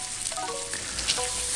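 A steak sizzling in a smoking hot pan with a touch of oil: loud, steady crackling fry hiss close up, with a slight surge near the end and no talk.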